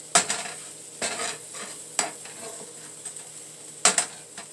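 Turkey bacon cooks in a pan beside eggs and vegetables, with a soft background sizzle broken by four sharp metallic stirring clacks at about one-second intervals.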